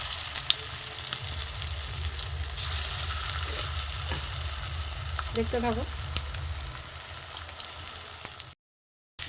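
Bitter gourd kebabs fry in a small amount of oil with a steady, close sizzle and crackle; a voice speaks briefly, and the sound cuts to silence near the end.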